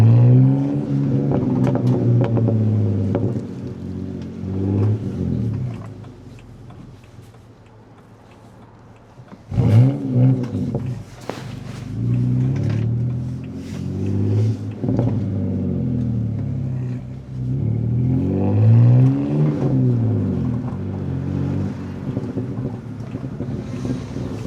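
An inline six car's exhaust on a dual carriageway, revving up and down in loud, close surges that rise and fall in pitch, with a brief lull midway and steady wind rush over the microphone throughout.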